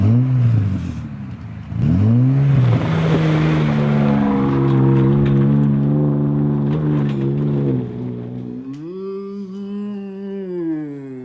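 A Ford F150 Tremor's V8 engine revs repeatedly, climbing and falling in pitch with a throaty roar, then settling into a lower idle-like drone near the end; loud and close, no talking.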